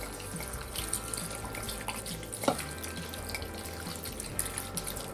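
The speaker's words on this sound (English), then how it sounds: "we're going to add another bottle of white wine." White wine poured from a bottle into a baeckeoffe dish of potatoes, a steady liquid splash running continuously throughout, close and moderately loud with no talking.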